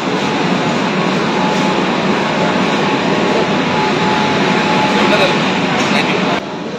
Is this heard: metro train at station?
yes